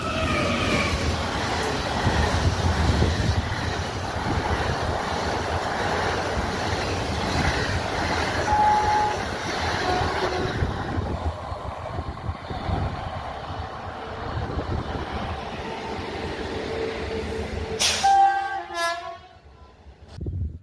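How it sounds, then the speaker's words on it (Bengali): A superfast express train passes Porabazar railway station at about 110 km/h, a loud sustained roar of wheels and carriages that eases off near the end, when a sharp horn blast and brief rattling follow. "ফ্ল্যাট 110 কিলোমিটার প্রতি ঘন্টা স্পিড নিয়ে পোড়াবাজার রেলওয়ে স্টেশন ক্রস করছে।"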